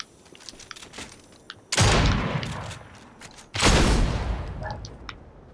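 Prime shotgun firing in Fortnite, two heavy, loud blasts a couple of seconds apart, each with a booming onset and a long decaying tail.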